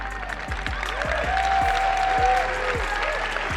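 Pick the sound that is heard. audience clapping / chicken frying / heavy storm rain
audience clapping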